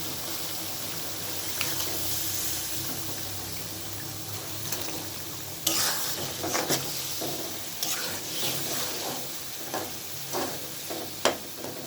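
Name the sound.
fish frying with vegetables and spices in pan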